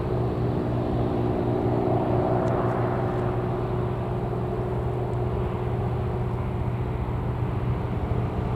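An EasyJet airliner at Newcastle Airport gives a steady, low, droning engine hum that holds evenly throughout at moderate distance, with no talking.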